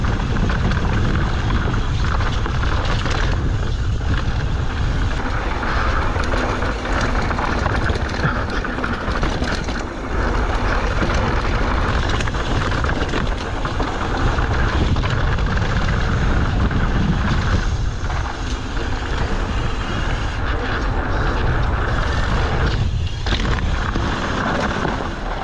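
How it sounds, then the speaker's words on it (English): Strong wind roars steadily on a mountain bike trail at Rocky Peak in Simi Valley, a loud, continuous broadband buffeting with gusty swells and no clear speech. "Super windy."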